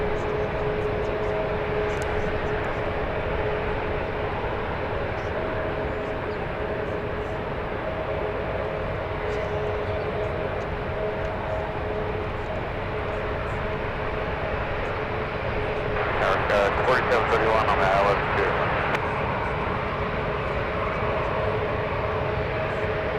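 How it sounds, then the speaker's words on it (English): A French Bee Airbus A350 arriving from Tahiti lands at San Francisco International Airport, a steady distant jet engine roar with a brief louder swell near the end. "Here comes the French A350."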